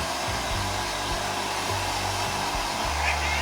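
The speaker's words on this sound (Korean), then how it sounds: "이렇게 드라이기를 준비를 해주셔서" A hair dryer blows with a steady, loud whooshing hum that runs the whole time, drying a cat after a bath, with a slight low wobble underneath and no voices.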